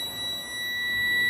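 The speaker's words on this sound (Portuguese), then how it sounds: "Colocamos aqui a escala do multímetro na escala de continuidade, onde tem o bip sonoro." A continuous high-pitched electronic beep from a multimeter on continuity test holds steady for over a second, clear and close, with no talking.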